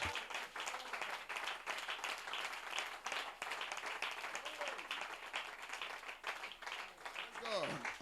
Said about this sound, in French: Est-ce qu'on peut donner une main vivante d'acclamation au Seigneur?